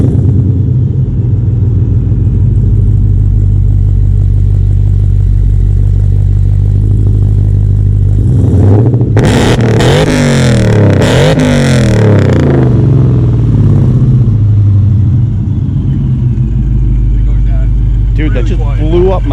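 A heavily modified Dodge Challenger R/T with JBA long-tube headers, no catalytic converters and factory mufflers without resonators idles loudly and close, then barks through several sharp, deep revs in the middle before dropping back to a rumbling idle.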